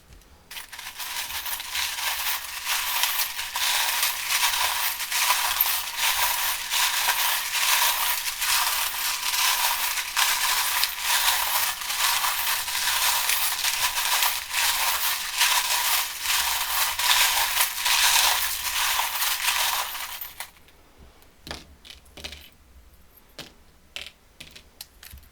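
Small metal tarot charms are shaken and rattled together for about twenty seconds in a dense, continuous clinking jingle, followed by a few scattered clicks and taps as they settle.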